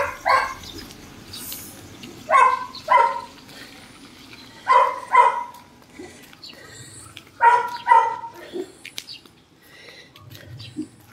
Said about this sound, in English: This dog always barking at me.